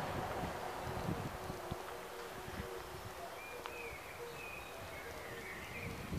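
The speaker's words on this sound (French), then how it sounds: "il y a énormément de vent" Strong outdoor wind under a grey sky ahead of rain buffets the microphone as a steady broadband rush with low rumbling gusts, continuous and fairly close, with faint bird chirps in the background.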